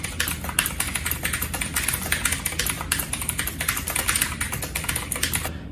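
Fast typing on a tenkeyless mechanical keyboard fitted with blue switches gives a dense, continuous run of sharp clicky keystrokes, close and bright, with no voices.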